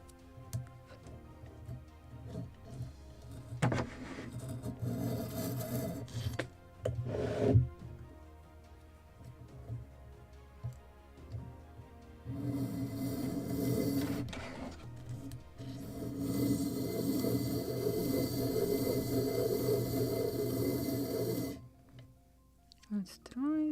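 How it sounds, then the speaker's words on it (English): Sandpaper rubs the wooden hull of a model of the 1776 gunboat Philadelphia during fairing, giving close, raspy scraping strokes, a few sharp bursts early, then long steady sanding later, with some talk mixed in. "I need to sand it."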